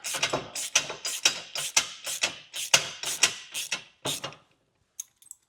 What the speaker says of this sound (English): Using a number 8 Allen on an extension and a ratchet, you're going to tighten it up.